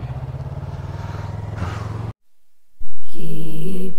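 A motorcycle engine revs steadily with a rapid pulsing throb while the clutch is feathered from a stop, then drops to near silence before a louder, higher-pitched rev returns.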